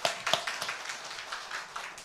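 A church congregation at a Sunday morning service in Daegu applauds the choir: a few sharp, close claps open, then a soft, steady patter of clapping fills the room at low volume.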